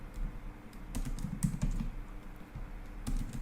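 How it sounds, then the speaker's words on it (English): Keys clatter on a computer keyboard in quick irregular bursts of clicks, close and moderately loud over a low background hum. "There is a typo. I'm just typing it again."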